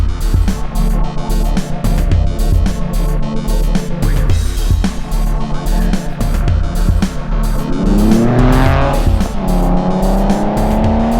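A Porsche engine drives under load, a loud continuous growl with rhythmic pulses, rising in pitch near the end as it revs up through acceleration.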